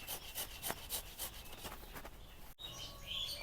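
Watermelon flesh rubbed against a grater to draw out its juice for homemade ice cream, a close, steady series of wet rasping strokes that briefly stop and then resume more softly.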